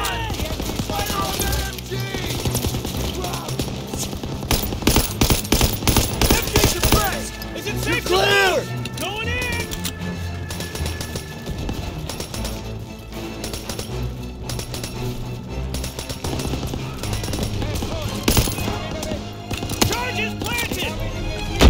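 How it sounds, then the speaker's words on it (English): Sustained machine gun suppressive fire against a pillbox in a Call of Duty WWII battle on Hill 493 rattles in dense rapid bursts, loudest in the middle, mixed with shouted voices and battle noise. "Place suppressive fire! MG suppressed!"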